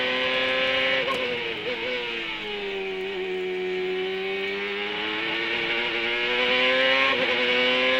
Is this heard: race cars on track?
yes